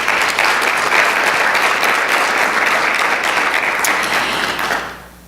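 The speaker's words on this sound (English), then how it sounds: "let's have a round of applause for Ritu" An audience at an evening healthcare talk applauds a speaker, a loud, full burst of clapping that holds steady for several seconds and then fades quickly to quiet.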